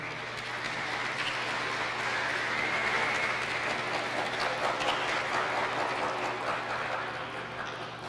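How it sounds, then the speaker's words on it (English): Applause fills a church after a speech, a steady, distant wash of many hands clapping in a reverberant space that holds evenly for several seconds. "The loudest applause comes from a very grateful and proud father who managed to stand up in the choir loft"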